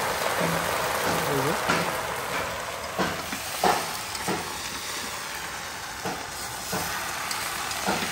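Tomatoes sizzle and fry in a hot pan with steady hissing, broken by scraping stirs of a spoon, while a voice speaks intermittently over the cooking.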